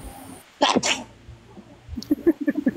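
A person sneezes loudly and close by, a sharp double burst, followed by soft murmuring voices and quick light sounds in the background.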